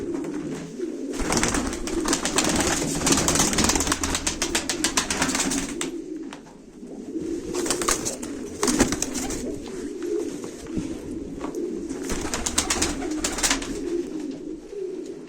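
Pigeons coo and flutter steadily at a live pigeon auction, with a dense layer of calls and wing noise filling the space throughout, fairly loud and continuous.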